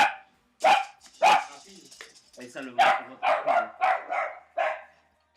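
Dogs bark in several short, sharp bursts spread across a few seconds, close and fairly loud, mixed with someone talking over a video game session.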